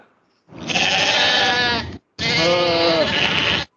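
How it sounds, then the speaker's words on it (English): A baby goat bleats twice, loud and close: two long, wavering cries with a short gap between them, and nothing else around them. "This is a baby goat."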